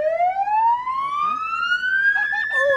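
Toy car button triggers an emergency vehicle siren, a loud electronic wail that sweeps steadily upward in pitch, close and clear, with children's voices briefly audible near the end.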